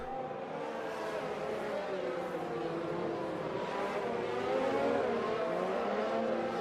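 Race car engine at full throttle in the F1 2019 video game on PS4 at the French GP, a sustained high drone that rises and shifts in pitch, with commentary talking over it.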